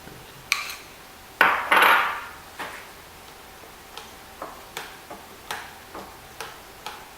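Peanut butter chocolate brownie batter being mixed in a bowl, giving a series of light, rhythmic taps and clinks of a utensil against the bowl, with a couple of louder scraping bursts early on and no talking.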